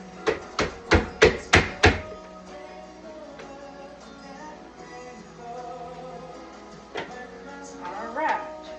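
A knife chops cabbage on a cutting board in a home kitchen, six loud, evenly spaced thuds in quick succession, then quieter kitchen sounds and a faint later knock.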